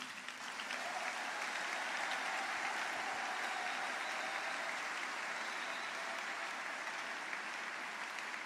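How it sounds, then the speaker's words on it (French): A church congregation applauds for Jesus in a steady, dense wash of clapping that holds at an even level throughout, with no speech over it. "Est-ce qu'on peut acclamer pour Jésus?"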